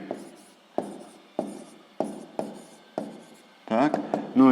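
A pen writes down numbers for a sixth-grade maths problem, with regular firm strokes about every half second, close and crisp, followed by a busier burst of scribbling at the end.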